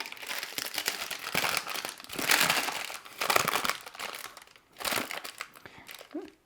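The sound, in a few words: crinkling plastic sandwich bag of ration packaging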